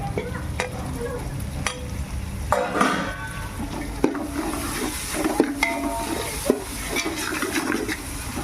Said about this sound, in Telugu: ఇప్పుడు కొత్తిమీర కొత్తిమీర కూడా ఆయిల్లో వేసుకోవాలి